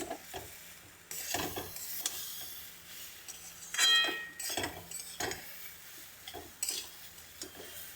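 Small splashes of water hit a hot pan, sizzling and hissing while a spoon stirs and scrapes steadily, with occasional clinks of metal on the pan, close and busy throughout.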